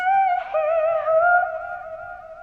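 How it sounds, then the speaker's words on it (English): Single sung vocal note from an FL Studio vocal runs preset with a quick melodic run, trailing into a sustained, slightly wavering tone with a delay echoing tail. "this is vocal runs preset called Kit 18"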